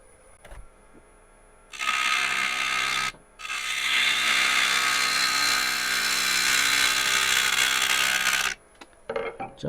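A gouge cutting the outside edge of a cored burl bowl blank spinning on a wood lathe, a loud continuous shearing hiss that stops briefly, resumes for several seconds, then cuts off, leaving faint clicks.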